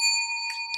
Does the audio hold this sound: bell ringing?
yes